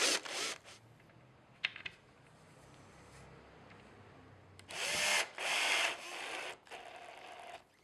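A drill bores pilot holes through a plastic fixing panel in several short, loud whirring bursts, separated by quieter pauses and light handling clicks.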